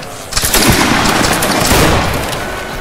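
A line of soldiers fires a musket volley in a Roblox battle game, a loud, ragged burst of overlapping shots that breaks out suddenly and crackles on before slowly thinning out.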